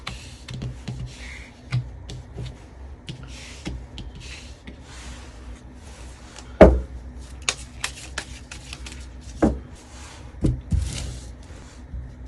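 Tarot cards being shuffled and handled at close range, a steady papery riffling with scattered sharper snaps and taps, heard alone without talk.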